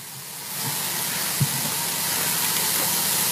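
A fiberglass chopper gun sprays in a shop, a steady broadband hiss that swells after a moment and holds on without a break, with a faint knock partway through.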